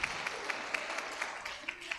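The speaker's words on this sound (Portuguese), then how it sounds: "Você pode aplaudir a Jesus nesta noite" Church congregation applauding during a service, a steady patter of many hands clapping with a few sharper individual claps standing out, moderately distant.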